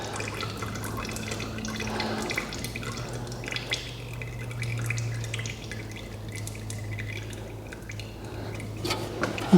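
Engine oil runs out of a Fiat 500 sump into an oil pan as a steady trickle with scattered drips, beneath a constant low hum. Nearby sounds and shifting movement come and go.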